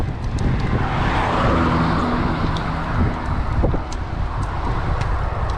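Strong wind roaring across the microphone while cycling toward Opicina near Trieste, a loud continuous buffeting rush with low rumbles and occasional faint clicks, and no talk over it.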